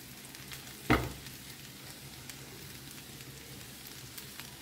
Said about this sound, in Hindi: तो लहसुन को ना मैंने 1 मिनट के लिए भून लिया है